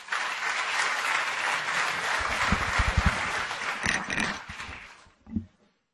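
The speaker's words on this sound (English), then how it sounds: "If we could get another round of applause for them" Sustained applause from an audience at a sports business conference keynote, a dense, steady wash of many hands clapping that tapers off near the end, leaving a few final claps.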